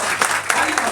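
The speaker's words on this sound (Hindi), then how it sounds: "प्लीज ताली बजाएं आप सभी प्लीज" Audience at an open mic poetry event clapping in a short, fairly close burst, with a voice overlapping the applause.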